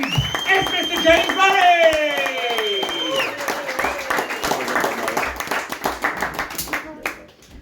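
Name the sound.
audience clapping and cheering for a comedian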